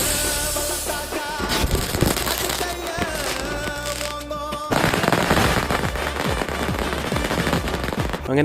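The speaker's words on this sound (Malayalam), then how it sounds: "ഉള്ള പടക്കം നല്ല പൊട്ടിച്ച് തീർത്തു." Firecrackers burst during Vishu celebrations, a loud run of sharp pops and crackling rattles, some rapid like a volley, with tonal music sounding alongside at times.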